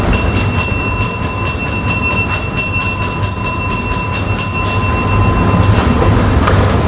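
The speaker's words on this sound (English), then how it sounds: "The division is called Ring the Bells." An electric division bell rings in rapid continuous pulses in a youth parliament chamber, loud and steady, then cuts off, leaving a low background rumble.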